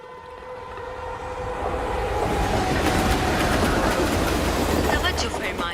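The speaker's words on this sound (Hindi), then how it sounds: "लाहौर से बहावलपुर जाने वाली पाकिस्तान एक्सप्रेस प्लेटफॉर्म नंबर 5 से रवाना हो रही है" Pakistan Express pulling out of a station platform on the Lahore to Bahawalpur run, its rumbling wheels and rail noise building steadily over a low hum, with faint talk underneath.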